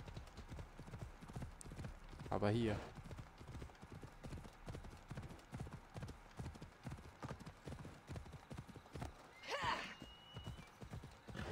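Horse hooves clip-clop steadily in the game Assassin's Creed Odyssey, a rhythmic galloping close up with two short whinnies breaking through, while someone talks briefly over it.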